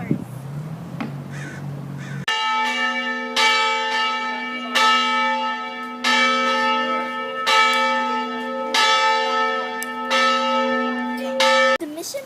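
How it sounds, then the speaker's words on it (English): A large Santa Barbara mission church bell tolls repeatedly at an even, unhurried pace, its ringing tones overlapping and sustaining, loud and resonant, with a few faint sounds before it starts. "The mission bell that you just heard"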